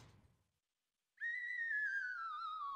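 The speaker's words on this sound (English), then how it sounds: "I love the slide whistle so much." A slide whistle comedy effect from the Nichijou anime plays alone after a brief quiet gap: one sustained, bright whistle tone that glides slowly downward, clear and fairly loud.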